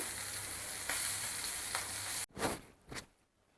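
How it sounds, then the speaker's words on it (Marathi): Fish fry sizzling in a pan: a dense, steady crackle for about two seconds that cuts off abruptly, followed by two brief clattering knocks as pieces are moved, with no talking. "तर बघा मस्त असे मासे फ्राय करून तयार झालेले आहेत."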